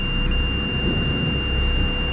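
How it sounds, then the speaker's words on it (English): Electronic ghost-hunting device emits steady high electronic tones, thin continuous beeping lines above a low muffled rumble, close and constant with no talking. "now you got them beeping."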